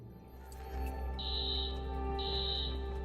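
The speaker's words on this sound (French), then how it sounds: "L'alarme s'est déclenchée." An alarm goes off in the video game Watch Dogs as a steady electronic buzzing tone in two sustained bursts. It sits over a constant low background hum and there is no talking.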